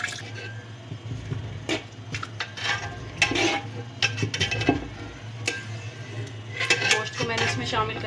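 Haleem of lentils, wheat and meat mashed in a pot with a masher, giving repeated close metallic knocks and wet squishing thuds in an uneven rhythm, with no talk.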